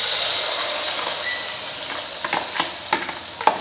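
Omelette egg mixture hits hot oil in a pan with a loud, steady sizzle and hiss, then a few sharper spitting crackles near the end; no talking.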